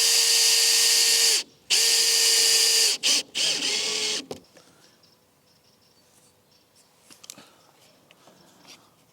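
A power drill drives screws into a large wooden barn door, running loud and steady in several bursts with short pauses over the first four seconds, then stopping, leaving faint quiet handling noises.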